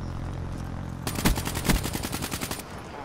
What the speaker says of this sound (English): that's a shotgun guy again